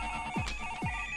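A telephone rings in short repeated electronic trills, two bursts over about a second, steady and fairly clear with a faint tonal hum underneath.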